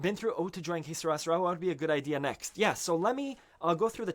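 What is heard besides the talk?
No distinct noise like a dog, phone or traffic.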